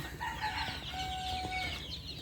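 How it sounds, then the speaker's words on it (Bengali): Native chicks on a poultry farm holding about fifteen hundred birds, around ten to fifteen days old, give faint, scattered peeps and clucks against a steady background. "এখানে সব মুরগির বাচ্চা দেশি মুরগি এখানে দেড় হাজার মুরগির বাচ্চা আছে"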